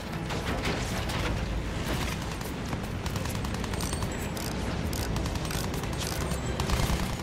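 Gunfire and explosions from the video game Battlefield 1 fill the scene with dense, continuous bursts of shots and booms, loud and chaotic, rising slightly toward the end.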